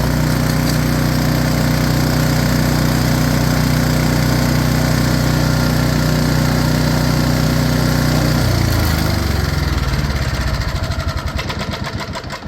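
A Briggs and Stratton 305cc electric-start engine on an Ariens 27LE snowblower runs loud and steady close by, then its note drops and winds down as it shuts off near the end.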